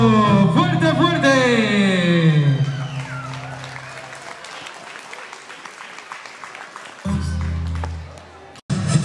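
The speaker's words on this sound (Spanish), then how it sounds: "amigos y familiares, brindémonos en un fuerte aplauso" Friends and family applaud at a quinceañera celebration. A sustained burst of dense clapping rises over a fading musical, voice-like sweep, holds for several seconds, then gives way to a voice near the end.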